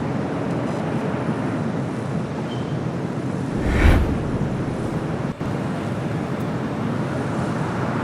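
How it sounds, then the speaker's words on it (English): Delta Flight 8, an aircraft arriving from Tokyo Haneda on approach to LAX, passes over the 405 freeway. A loud steady roar of engine and traffic noise holds throughout, with a brief swelling rumble midway. "the aircraft is now approaching the 405 freeway"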